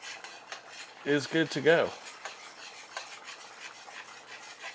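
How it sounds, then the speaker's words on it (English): Bacon potato leek soup being stirred in a pot with a spoon, soft scraping and swishing strokes close by, broken up by a short spoken phrase and a few brief tonal chirps. "And then we'll stir it up"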